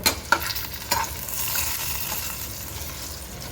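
Spices and kasuri methi frying in a pan for Karnataka-style tomato bath, a steady broadband sizzle with a few sharp stirring clinks near the start, close and moderately loud, no talking.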